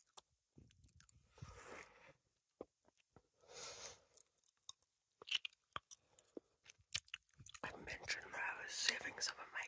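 Close, crunchy chewing of candy in short bursts with soft wet mouth sounds, interspersed with faint whispering.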